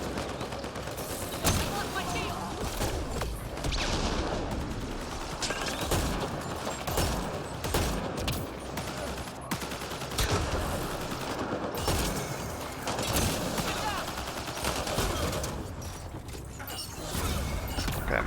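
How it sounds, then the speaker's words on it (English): Shotgun and other gunfire in the sci-fi shooter Mass Effect: Andromeda: repeated shots and blasts within a dense, steady wash of combat noise, with intermittent talk over the top. "I'm out of ammo for my shotgun"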